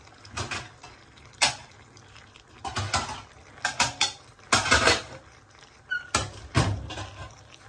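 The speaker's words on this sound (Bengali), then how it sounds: "আমি একটু ঢেকে দিচ্ছি, আমি একটা ঢাকনা নিয়েছি" A lid goes on a pot of fish cooking on the stove, with close metallic clanks and clattering knocks spread in bursts over several seconds and no voices.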